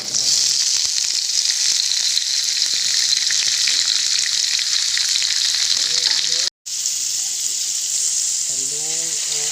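Squash (kalabasa) sautéing in a pan for ginisang kalabasa with eggplant and string beans: a steady, bright sizzle fills the clip, with brief stirring scrapes, a short dropout near the end and a voice talking faintly underneath.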